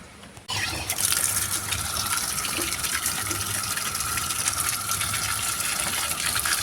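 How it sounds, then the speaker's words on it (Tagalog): Water gushes from an outdoor faucet, starting abruptly after a brief quiet moment and then running in a steady, close, loud rushing stream without interruption. "May gripo dito."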